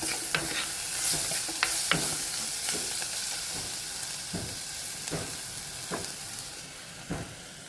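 Masala with green chillies for a roasted-coconut Kerala chicken curry fries in a pan while a spoon stirs it, giving a steady sizzle crossed by sharp scraping clicks every second or so, close and with no talking.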